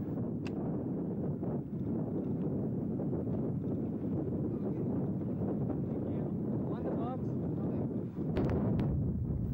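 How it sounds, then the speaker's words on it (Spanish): Strong wind buffeting a small fishing boat on the water during a black bass trip, a steady loud roar of gusts across the microphone, with faint talk underneath. "el fuerte viento amenaza con empujar la embarcación"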